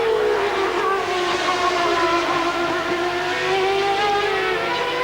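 A 1990 McLaren Honda Formula 1 car driven by Senna in qualifying at the Hungarian Grand Prix in Budapest, a loud high-pitched engine scream sweeping steadily downward as the car passes under a bridge, continuous and close.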